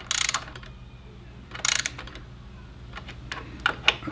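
Torque wrench clicking and ratcheting while tightening crash bar bolts on a KLR650 motorcycle, with several short bursts of clicks spread apart and a few sharp metallic ticks near the end, close and moderately loud with no talking.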